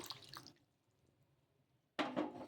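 A cup of water splashes briefly into a bowl of semolina, oats and yogurt, falls quiet, then splashes again in a short, close pour.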